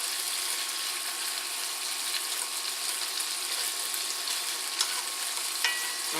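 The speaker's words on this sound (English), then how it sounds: "I'm frying up the bacon." Home-canned bacon sizzles and crackles steadily in a hot pan, a dense hiss with occasional louder pops, close up and without talk.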